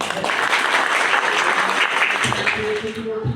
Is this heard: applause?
yes